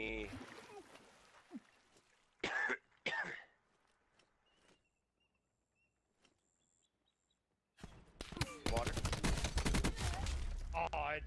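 Call of Duty match gunfire comes in short, sharp bursts, then goes quiet before a dense, sustained volley. A voice speaks and coughs near the start.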